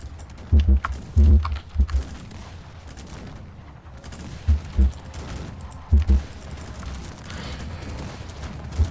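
Bursts of distant gunfire and cannon fire in the game Cossacks 3 come in short clusters of deep thumps, separated by quieter background rumble.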